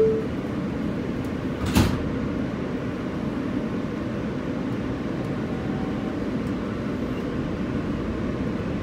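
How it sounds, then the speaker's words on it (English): A Manhattan-bound W local subway train in New York rumbles steadily with low, continuous noise, and a brief sharp clunk near the start like its doors closing. "Stand clear of the closing doors, please."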